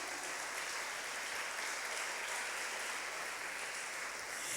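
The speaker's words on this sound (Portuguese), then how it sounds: "Aplauda bem forte, igreja," A church congregation applauds strongly at a worship meeting, a thick, uniform roar of many clapping hands that holds steady throughout, loud and close.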